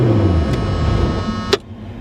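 A car's engine shuts off, ending a steady idle rumble with a short click or clunk, then goes quiet.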